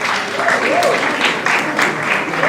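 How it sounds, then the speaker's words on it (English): A roomful of people clap steadily, a dense patter of applause with some voices mixed in. "round of applause for them"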